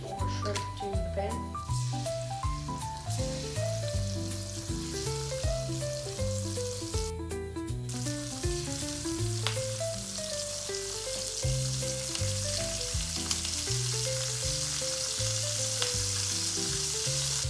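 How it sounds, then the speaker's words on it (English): Shrimp and garlic sizzle in a hot frying pan, a loud, continuous crackling hiss that runs throughout beneath steady background music. "Now you're gonna wanna add the rest of your garlic to the pan. Alright, so then you wanna add your shrimp to the pan."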